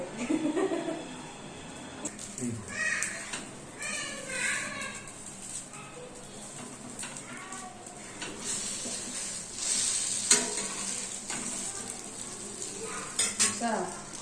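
A bread omelette fries in a pan with a steady close sizzle, punctuated by occasional utensil clinks, while voices murmur in the background.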